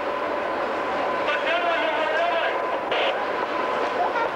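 Train standing at a station, with a steady rumble of rail noise and carriage sounds throughout, loud and close, while people talk over it.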